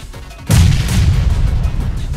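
A bomb goes off in PUBG Mobile: a sudden loud close boom after a quiet start, followed by a long rumbling tail, with no talk.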